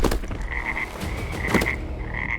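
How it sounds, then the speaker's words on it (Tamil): A frog croaks loudly and close by, with repeated throaty pulses in a steady series over a dense background of outdoor night sounds, and no voices. "அப்போது சட்டென்று ஒரு தவளை அவனது முகத்திற்கு நேராக குதித்து வந்து நின்றது"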